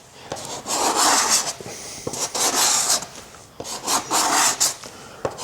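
A cabinet scraper rasps across wood to take off saw marks, shaving thin amounts of material in repeated loud, close strokes of about a second each, separated by brief pauses.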